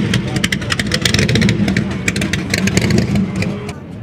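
An old supercharged Willys at a car show rumbles with rapid revving pulses close by, mixed with crowd noise and voices in the background.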